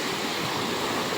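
Water rushes steadily into a channel at a newly built earthen bund, a loud, close, unbroken wash of broadband noise with no break or voice.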